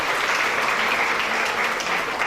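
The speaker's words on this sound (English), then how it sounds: "Can we get a round of applause for the speakers?" An audience at a university event claps for the speakers, sending up a dense, steady wash of applause that holds at an even level from start to finish.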